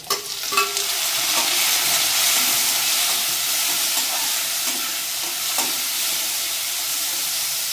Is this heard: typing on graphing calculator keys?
no